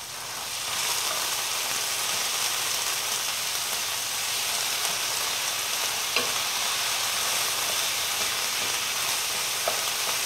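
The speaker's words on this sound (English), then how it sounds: "we're gonna add the ground beef to that garlic and onions, and then we're gonna just brown the beef" Ground beef browning with garlic and onions in a pan makes a steady, loud, broadband sizzle that holds unbroken and fairly close. A few faint scrapes of stirring come through, with no talking.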